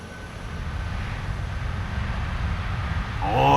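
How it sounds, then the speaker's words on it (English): A PMDG jet airliner in Microsoft Flight Simulator 2024 gives a steady broad engine roar under reverse thrust, swelling louder toward the end. "check out the reverse thrust"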